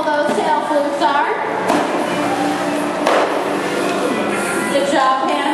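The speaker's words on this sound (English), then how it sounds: "They will smack the top of the water with their tail flukes." Hannah, a rehabilitated marine mammal, smacks the water's surface with her tail flukes, making a few sharp, loud slapping splashes spaced out under a person talking.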